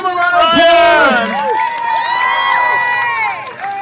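A karaoke crowd at the Great America amusement park cheers and screams loudly, a dense wave of high whoops and shouting voices sustained throughout, close and enthusiastic.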